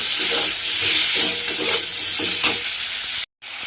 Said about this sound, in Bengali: তেলের মধ্যে আলুগুলো দিয়ে হালকা লাল করে একটু ভেজে নিয়েছি